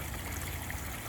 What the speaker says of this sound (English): you got a functioning water feature